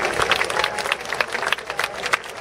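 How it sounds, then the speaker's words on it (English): An outdoor crowd at a Jack Layton memorial gathering in Nathan Phillips Square, Toronto, claps in a dense, continuous burst of applause that sounds fairly close. "I think that deserves a round of applause."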